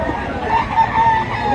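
A rooster crows loudly and close by in one sustained, wavering call that fills the whole moment, with no voices over it.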